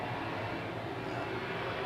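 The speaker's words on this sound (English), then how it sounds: "boy, that's a low plane" A low-flying airplane passes overhead, a steady broadband engine roar holding at moderate loudness throughout with no voices.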